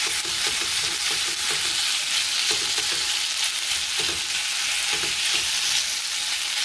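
Diced chicken with garlic and ginger sears loudly in a hot pan, a dense continuous sizzle with repeated scraping knocks as it is stirred, no voices over it.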